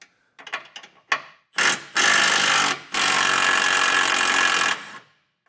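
Power tool bursts remove two 18mm head bolts from a tow loop on a 2017 GMC Sierra 1500, with short stuttering whirs followed by two longer, loud continuous runs that then stop, close and without talking.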